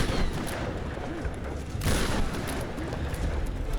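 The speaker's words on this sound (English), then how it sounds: "you're just shooting people with nice explosion sounds" Gunfire and explosions in the video game Tomb Raider (2013): dense, loud bursts of shots and booming blasts that crowd together nonstop, with a heavier crack near the middle.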